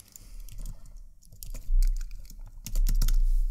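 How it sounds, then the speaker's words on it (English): A file name typed on a Mac computer keyboard, heard as close, quick clicking keystrokes in uneven bursts, with no talking. "Then just type a name for your video."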